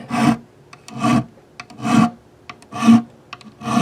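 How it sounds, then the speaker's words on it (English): A file rasps along the frets of a Yamaha guitar in four slow, even strokes, each a close, gritty scrape with brief pauses and small clicks between swipes. "just one or two swipes along each fret"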